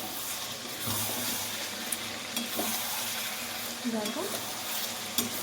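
Chicken liver and stomach fry in oil in a pan for a kosha curry, giving a continuous close sizzle broken by stirring scrapes. A voice says one brief word.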